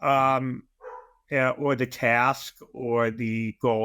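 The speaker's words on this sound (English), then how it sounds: "Sorry about the dog there" A dog barks and yips intermittently during a talk, short sharp barks interrupting a man's speech close to the microphone.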